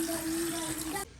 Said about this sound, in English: Now we're gonna be putting some cold water in it.